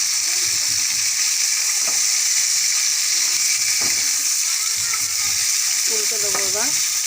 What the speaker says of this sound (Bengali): কমিয়ে দেবো গ্যাসটা, কমিয়ে কমিয়ে ভাজবো মাছটা